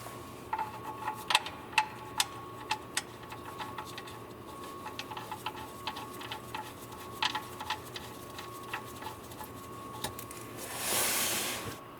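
Oil drain plug bolt being threaded back in by hand on a Toyota RAV4 Hybrid, faint scattered ticks and light metallic clicks in an irregular rhythm, then a brief soft rushing noise near the end, with no talking.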